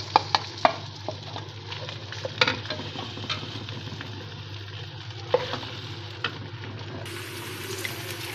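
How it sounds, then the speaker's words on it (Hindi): Steady sizzling of okra frying in hot oil, with occasional stirring clatter and clicks, no voices. "इसमें हम डालेंगे ऑयल भिंडियाँ और अब हम इनको फ्राई कर लेंगे"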